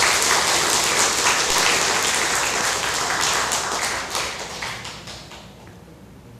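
A church congregation breaks into dense, loud applause that fills the sanctuary, holding steady and then gradually tapering off.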